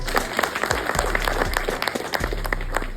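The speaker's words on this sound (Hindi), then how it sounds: "बहुत बड़ी उपलब्धि, उसके लिए ताली है" Dense, steady applause from an audience at a retirement farewell celebration, many hands clapping continuously at close range for the full stretch, with a low hum beneath and no speech.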